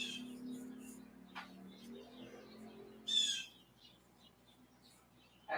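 Faint bird chirps and short tweets over low background hum, scattered and sparse, with a brighter burst of calls around the middle.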